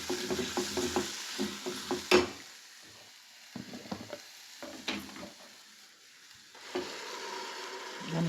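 A ground paste of garlic, onion and ginger sautés in a pan: a rapid series of scraping stirs, then quieter sizzling with sporadic clanks of a utensil, fairly close and faint.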